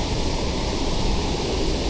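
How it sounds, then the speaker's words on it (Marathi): A Konkan village stream in heavy monsoon flow rushes loudly and evenly, a dense, unbroken roar of water close by with no other sounds. "तिकडनं पण पाणी बघ किती वाहत आहे"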